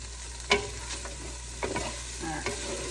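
Garlic sizzles quietly in a pan on the stove for chicken white chili, with a few sharp clicks and scrapes from stirring over the soft, steady frying hiss.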